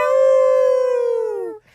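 A human voice imitating a wolf's howl: one long, loud, sustained wavering note that slowly falls in pitch and then cuts off, heard close and alone.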